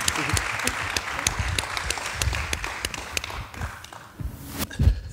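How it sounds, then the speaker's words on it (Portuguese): An audience at a literary evening in Castelo Branco applauds a writer, a burst of clapping that thins into scattered claps and a few knocks toward the end. "Senhoras e senhores, o vosso aplauso para José Eduardo Agualusa."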